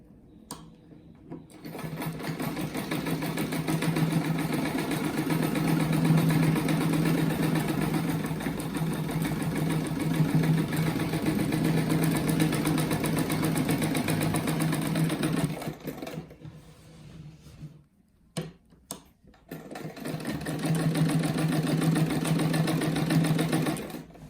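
A sewing machine runs in long steady bursts, stitching strips of fabric into a bear-shaped rug. The motor hums loudly and continuously for about fifteen seconds, stops briefly, then starts up again.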